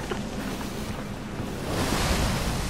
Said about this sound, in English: Big waves, big crashes.